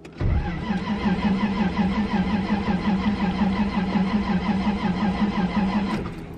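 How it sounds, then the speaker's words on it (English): A Nissan S13 with a 1JZ engine that has sat unused for over a week cranks in cold weather without catching, a steady rapid starter churn running continuously for about six seconds, close and loud, with no voices. "I don't think it's gonna turn on because it hasn't turned on the last few times I tried to start it."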